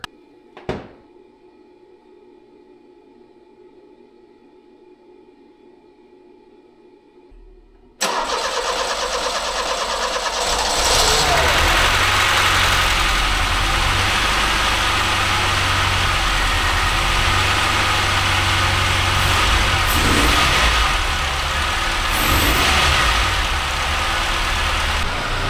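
A Chevrolet Beretta Z26 with a Quad 4 engine cranks briefly, then fires up and settles into a loud, steady idle that runs on without a break, close to the listener, after a quiet stretch and a single click.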